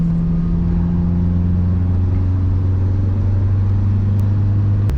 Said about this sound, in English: smack the throttle to rev it